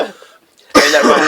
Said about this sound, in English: Ain't that right with your guilty cough?